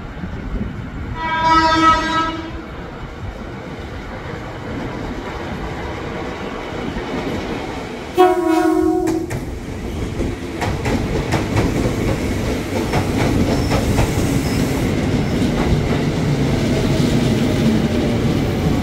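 Train horn blasts twice over the rumble and clatter of a passing KRL Commuter Line electric train at Universitas Indonesia station, which grows louder and steadier toward the end.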